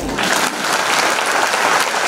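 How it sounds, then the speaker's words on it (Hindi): Audience applause fills a seminar hall during a motivational talk on success, a dense, steady wash of clapping from many hands, loud and continuous throughout with no talk over it. "ताली हो जाएगा।"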